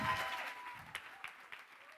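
Applause from an audience at a project slam event tails off, a soft wash of clapping that fades over a couple of seconds with a few scattered, isolated claps near the end.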